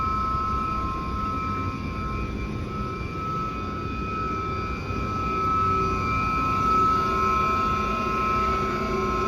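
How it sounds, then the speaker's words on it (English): A system pump in a boiler mechanical room runs steadily, a loud continuous drone with a whining tonal hum layered over low rumble, unchanging throughout. "System pump. That's the only one that's on right now."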